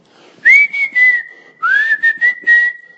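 A man imitates someone whistling aimlessly with no real tune, giving two close, loud bursts of warbling, wavering whistle notes, each breaking into short choppy pulses, with a brief pause between them.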